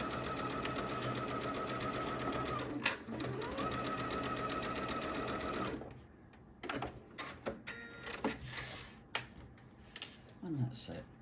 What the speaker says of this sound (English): I'm just sewing it so I can just see the underneath fabric